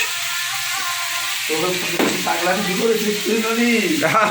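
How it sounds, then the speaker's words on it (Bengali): Potatoes and onions frying in a pan, a steady close sizzle throughout, with someone talking over it for the second half. "বড় মামা রান্না করতেছে আলু ভাজা, পেঁয়াজ দিয়ে আলু ভাজা"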